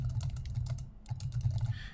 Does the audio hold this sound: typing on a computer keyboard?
yes